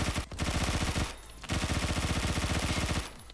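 Rapid automatic fire from an MP5 10K submachine gun in the shooter game Phantom Forces, two loud sustained bursts of fast, evenly spaced shots separated by a short pause, with a brief burst opening and a tail at the end.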